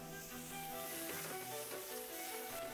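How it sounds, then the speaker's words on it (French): Mussels with Provençal sauce stirred in hot olive oil with red onions and garlic, a steady soft sizzle running throughout at low volume. "On ajoute les moules. Puis la sauce provençale et on remue."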